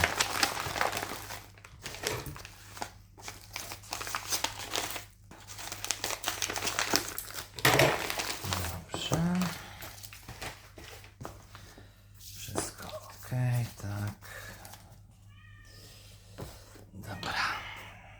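A shipped parcel being opened up close, with bursts of crinkling, rustling packaging and tearing paper. Quiet handling noises come in between, and someone speaks briefly at times.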